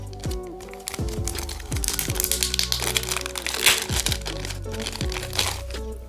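Stiff plastic clamshell packaging crackles and crinkles up close as a Teenage Mutant Ninja Turtles toy set is pried open, with dense, continuous crunching and sharp snaps plus a low droning hum underneath.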